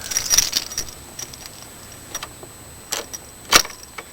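Car keys jangle in short metallic bursts inside a 1992 Ford Crown Victoria before a cold start, with a cluster of clinks at the start and sharper rattles later, close and fairly loud over a quiet background.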